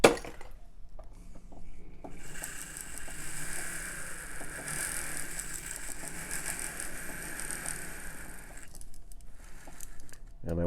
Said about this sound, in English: yes, I still use a flex shaft machine.